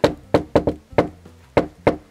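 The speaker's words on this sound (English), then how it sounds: "I like knocking like that." Firm knocks on a door, about eight sharp raps in uneven groups of one and two, loud and close with nothing else heard between them.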